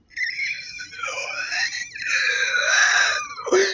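A voice imitates a suppressed, strained scream that trails into a high, wavering moan, brief and close with no other sound around it.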